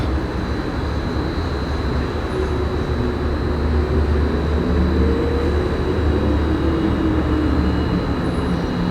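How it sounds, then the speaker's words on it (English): Distant traffic rumbles steadily below an apartment balcony, a continuous low wash of engine and road noise with no breaks, fairly loud and uniform throughout. "If you can hear in the background traffic"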